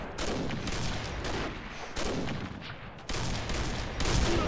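Gunfire in the shooter game Combat Arms: rapid automatic bursts crackle in dense, repeated volleys, loud and close, with short breaks between them and no talk.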